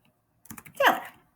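Brief burst of typing on a computer keyboard while a name is entered into a web image search, a quick cluster of close, crisp key clicks lasting under a second.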